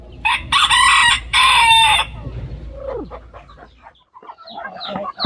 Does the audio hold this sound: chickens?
yes